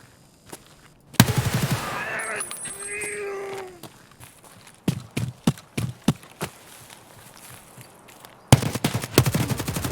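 Bursts of RPK-16 machine gun fire in the game Escape From Tarkov, a sustained loud burst at the start and another at the end, with scattered single sharp shots and game sounds in between.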